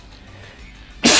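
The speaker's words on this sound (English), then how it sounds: "probably should have sneezed before I started recording" A single sudden sneeze bursts out at the very end, loud and close after a near-silent lead-in.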